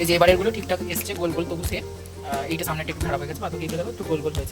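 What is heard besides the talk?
No distinct noise like a dog, phone or traffic.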